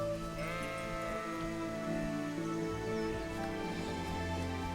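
Several sheep bleat in Kingdom Come: Deliverance over a steady game-music background, their calls wavering and overlapping at a moderate distance.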